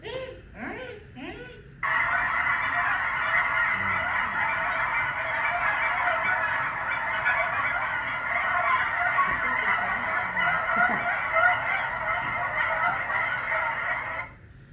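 A large flock of Canada geese honks continuously and loudly, a dense chorus of overlapping calls that swells after a brief start and holds steady throughout.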